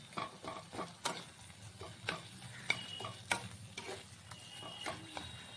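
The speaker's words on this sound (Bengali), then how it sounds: "ওই তেলে আরেকটু তেল দিয়ে এবার মশলাটাকে সুন্দর করে কষে নিতে হবে" Spice paste being sautéed in oil in a pan, a low quiet sizzle broken by a string of irregular sharp clicks and taps from stirring, no speech.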